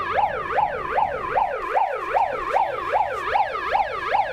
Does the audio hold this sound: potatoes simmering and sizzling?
no